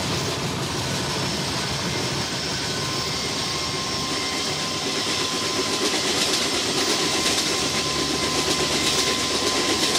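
Mitali Express passenger train running on its tracks, a loud steady rumble with rattling wheel and rail noise heard from inside the moving train, continuous throughout.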